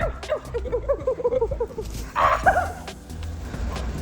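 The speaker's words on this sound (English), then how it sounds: "There's the dog." A dog gives a quick run of small yapping barks at moderate distance, followed by a louder yelp, over low background rumble.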